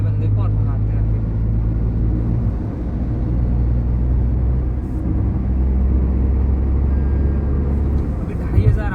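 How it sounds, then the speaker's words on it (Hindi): A car runs at about 2500 RPM in fourth gear while driving. A loud, continuous low engine drone and road rumble holds steady inside the cabin. "अभी 2500 RPM में गाड़ी चल रही है"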